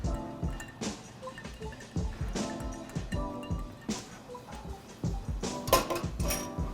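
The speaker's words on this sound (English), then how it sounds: "we're just going to give the cocktail a stir to help incorporate everything and chill it down just a little bit" A cocktail stirred in a mixing glass, with a run of light, bright clinks and taps of ice and spoon against glass, some liquid trickles, and steady close-up kitchen handling noise in between.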